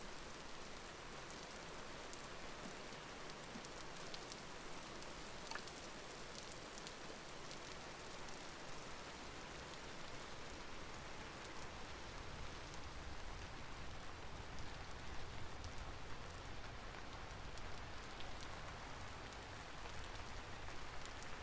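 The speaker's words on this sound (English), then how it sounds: "Rain, rain, go away." Rain falls steadily in the video game Vintage Story, a dense, even hiss that holds at a constant level for the whole stretch with no talk over it.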